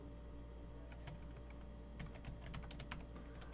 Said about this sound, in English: I'm typing crypto IPsec transform set.